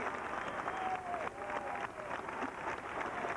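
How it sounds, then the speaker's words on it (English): Faint, distant applause from a crowd at a military drill platoon performance, a soft continuous patter with a thin tone drifting over it. "And there's a pause for applause."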